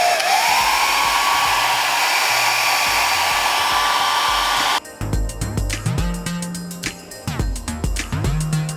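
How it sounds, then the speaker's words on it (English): A hair dryer blows hot air over a Swiss lace wig, a loud steady whir that climbs in pitch and then drops to a lower, rougher setting with soft bumps and handling noise, with no talking. "Now what I'm going to do is blow dry it."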